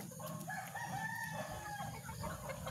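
A backyard flock of chickens clucks and a rooster crows, faint and somewhat distant, over a steady low background hum.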